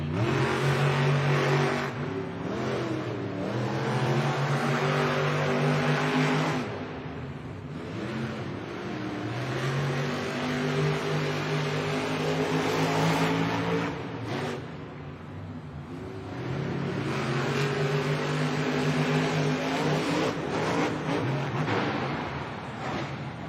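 Monster Jam monster trucks roar through a race in a stadium, engines revving hard and loud in sustained rising and falling waves with a short dip midway, no talk.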